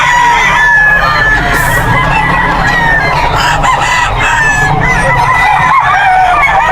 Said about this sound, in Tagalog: Mga stag.